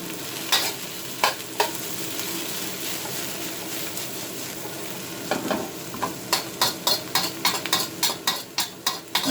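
Beef sizzling as it is stir-fried in a wok for crispy chilli beef, a steady hiss broken by repeated sharp spatula scrapes that quicken into a regular rhythm toward the end, close and loud with no talk.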